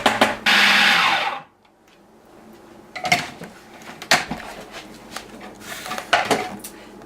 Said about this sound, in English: I'm gonna process once more to get it into one big clump